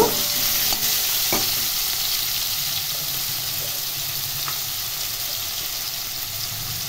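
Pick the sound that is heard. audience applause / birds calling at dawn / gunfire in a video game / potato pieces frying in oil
potato pieces frying in oil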